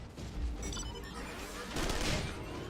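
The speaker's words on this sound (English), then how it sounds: "Let us try out your new cannons." Cannon fire in the video game Final Fantasy 14, a dense volley of booming blasts and crackling shots layered over one another, fairly distant and muffled, with a louder burst near the end.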